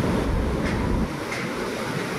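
Heavy surf pounds the shore at Siwol after Typhoon Tino, a deep booming rumble of crashing waves mixed with gusting wind noise on the microphone, loud and continuous.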